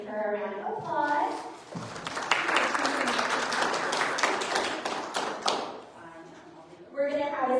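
Applause at a general meeting, with a speaking voice before it; dense, fairly close clapping from the room builds for several seconds and fades, and then talking resumes.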